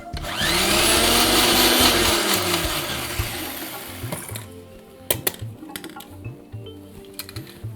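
A kitchen blender grinding chutney to a coarse texture on a millet cooking show: a loud, steady motor whir winds down after about four seconds, then gives way to scattered clicks and clatter.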